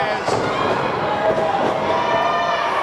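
A wrestling crowd at a BRCW Summer Smash match roars and cheers, a loud continuous wash of voices with tonal chanting layered through it and no clear break.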